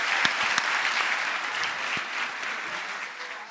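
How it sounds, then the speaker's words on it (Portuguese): An audience at a talk in Curitiba applauds, giving a steady wash of clapping with a few sharper individual claps standing out, fairly loud and continuous for a few seconds. "Uma salva de palmas para esse pai aí"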